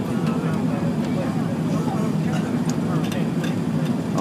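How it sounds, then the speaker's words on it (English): Airbus A380 Super Jumbo airliner landing in Hong Kong, heard from inside the cabin as a steady low engine and airflow rumble with faint clicks and rattles, loud and unbroken. "landing in Hong Kong on Super Jumbo A380."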